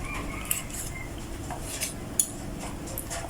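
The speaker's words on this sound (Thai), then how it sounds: "แล้วก็หั่นแค่พอดีคำนะคะทุกคน" A few sharp clicks and taps of a knife against a cutting board, cutting food into bite-sized pieces, spaced irregularly over a quiet background.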